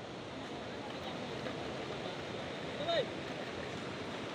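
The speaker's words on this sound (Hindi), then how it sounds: "गेट से नीचे मतलब कैनल से पानी उतर रहा है" Water pouring from a dam gate down into a canal at Mandira dam, a steady broadband rush that holds level throughout, with a brief faint whistle-like tone near the end.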